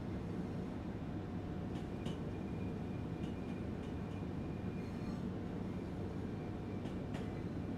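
A steady, rumbling train drone from a train simulation game, with the low hum of the moving railcar and faint metallic clicks and squeaks over it, even and continuous throughout.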